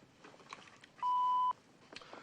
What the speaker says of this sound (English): If you care to leave a message, however, wait for the little beep.